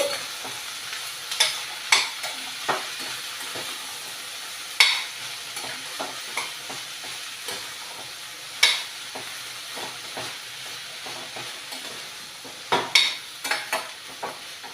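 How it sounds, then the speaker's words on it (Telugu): Chopped vegetable pieces fried and stirred in a pan: a soft continuous sizzle with a series of sharp spatula scrapes and clinks at irregular intervals, close by, no talking. "ఇది బాగా ముక్క మెత్తబడి బాగా వేగినంత వరకు ఇలాగా మధ్య మధ్యలో కలుపుకుంటూ వేయించుకోవాలన్నమాట"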